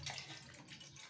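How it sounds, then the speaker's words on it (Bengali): Water pours over hands in a home kitchen with a faint, steady splashing trickle, quiet and close, with no talking. "হাতে একটু জল দাও"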